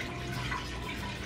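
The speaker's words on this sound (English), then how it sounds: "I have 2 cups of this chicken broth I'm gonna pour in." Chicken broth is poured from a carton into a measuring cup, making a soft, steady stream of liquid that lasts about a second and stays quiet and close.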